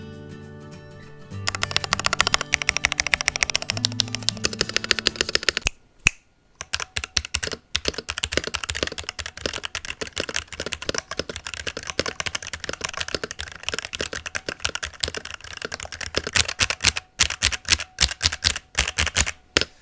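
Typing on a Varmilo keyboard with its own electrostatic capacitive switches, a steady rapid run of crisp key clacks with brief pauses, alone, after a short burst of music at the start.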